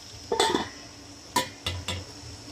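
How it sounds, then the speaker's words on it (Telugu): Instant noodles served from a pot onto a plate in a home kitchen, a few sharp metallic clinks and scrapes of utensil against cookware, close and brief, in four separated bursts. "దీన్ని అయితే ఇంక ప్లేట్లో కొట్టించుకున్నాం"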